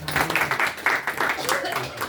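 A congregation at a night prayer claps hands in a quick, uneven rhythm, many palms striking together at close range while a voice speaks over the clapping.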